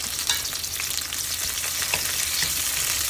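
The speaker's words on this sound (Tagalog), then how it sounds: "Igisa natin ng sibuyas." Chopped onions sauté in hot oil in a pan for a vegetable laswa, giving a steady, dense sizzle that holds at an even level throughout, with faint scraping from stirring and no voices.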